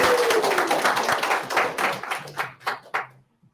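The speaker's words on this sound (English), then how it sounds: "round of applause." Audience applause for the winners of a Comm Week 2022 award, a dense burst of clapping that thins out into a few scattered claps before stopping.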